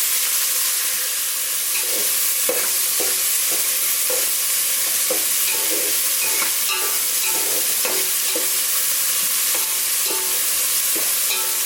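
Onions cooking down in a pan, along with green chilies and coriander, for bagara rice and chicken curry: a steady close sizzle with repeated scraping strokes of a spoon stirring through them, no voices.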